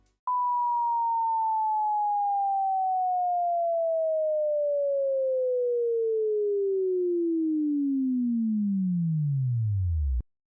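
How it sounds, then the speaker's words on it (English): A pure sine tone sweeps smoothly downward from 1 kHz to 50 Hz over about ten seconds, a steady, loud, continuous test signal with no other sound around it. "was a sine wave with decreasing frequency between 1 kHz and 50 Hz for 10 seconds, which is the frequency of bees buzzing"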